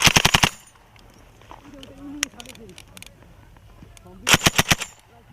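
Automatic gunfire from Royal Gurkha Rifles jungle training, two loud rapid bursts at the start and end with quieter movement and distant sounds between.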